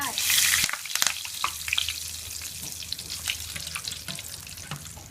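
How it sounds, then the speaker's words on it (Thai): Kaffir lime leaves are thrown into hot oil over high heat, starting with a loud spitting burst and settling into a steady close crackle with a few clinks of a utensil. "ไฟแรงๆนะคะ ทอดนิดหน่อยก็เอาขึ้นแล้วค่ะ"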